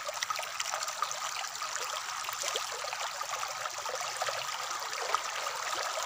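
Clear stream water flows over rocks in a steady, soft trickle and babble, continuous and fairly close, with no voices over it.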